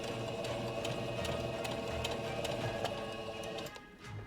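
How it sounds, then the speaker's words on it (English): A sewing machine runs steadily up close while stitching the seams of a pair of miniature doll pants, giving a continuous mechanical whir with faint ticking and easing off near the end. "we're gonna sew along the inside"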